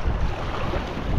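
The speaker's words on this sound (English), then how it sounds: "There's broken waves everywhere." Steady wind and broken ocean waves at sea, heard from a fishing boat out among surface-feeding kingfish, forming a continuous, fairly loud rushing wash with no voices.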